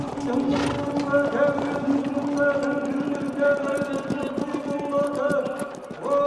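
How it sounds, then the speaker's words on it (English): Horses' hooves clop in a steady trotting rhythm during victory laps around a stadium at a horse race celebration, close and continuous with crowd and background sound throughout. "His grandchildren take 2 of his horses through their victory laps."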